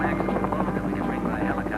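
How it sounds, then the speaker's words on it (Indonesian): Helicopter used for heavy-lift cargo flights in the mountains around the Freeport mine, a steady chopping rotor drone with a buzzy whine, fairly loud and continuous throughout. "Beban paling berat yang dapat diangkut helikopter ialah 800 kg."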